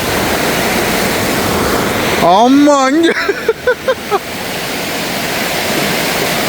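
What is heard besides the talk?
flood water flowing over the road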